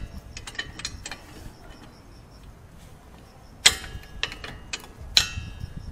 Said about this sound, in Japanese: これもボルトで締めるだけ。